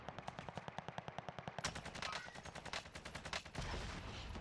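Rapid automatic fire from an AK rifle in a video game, sharp bursts in a fast regular rhythm, then heavier overlapping shots, close and loud with no speech.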